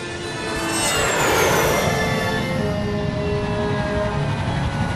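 A jet aircraft takes off in Psychonauts, a loud sustained engine roar with a rising whine that swells within the first second and holds steady.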